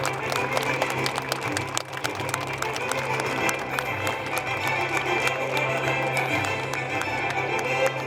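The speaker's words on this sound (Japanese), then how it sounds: "盛大な拍手をお願いします。" Crowd applause and scattered cheering at an outdoor air base friendship day after parachute jumpers land, a distant continuous patter over a low droning hum.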